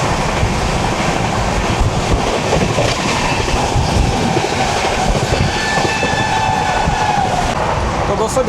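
A train running near Khanna Junction on the Delhi–Amritsar line, heard from inside a sleeper class coach as a loud, steady rumble with rhythmic clickety-clack of wheels over rail joints and faint squeals throughout.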